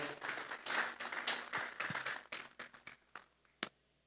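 Church congregation clapping hands together as an offering of praise to God, a dense burst of many hands that thins out into scattered claps and stops, with one sharp final clap.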